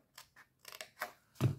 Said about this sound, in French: Vous coupez dans la bande du bas.